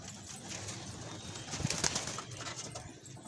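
Pigeons released at feeding time coo softly and flutter their wings, with a brief burst of flapping and a couple of sharp chirps standing out over a quiet outdoor background.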